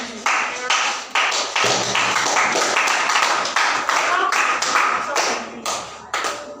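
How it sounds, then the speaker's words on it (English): Rhythmic hand clapping from students in a classroom, a series of sharp, close claps with brief gaps, loud and fairly regular, with no talk over them. "Did I ask you to clap?"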